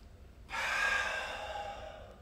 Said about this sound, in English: Inhale up, exhale in